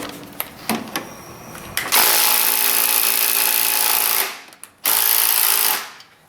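An impact wrench hammers on a bolt during an A/C condenser job on a Pontiac Torrent. A few short taps lead into two loud, sustained rattling bursts, with a brief pause between them and no talk.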